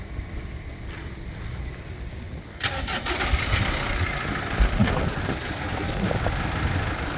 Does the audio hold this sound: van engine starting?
yes